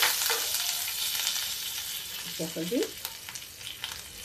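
Hot oil tadka for dal crackles in a pan with a steady bright sizzle throughout, near and fairly loud, with a brief stir sound midway and a single spoken word at the end.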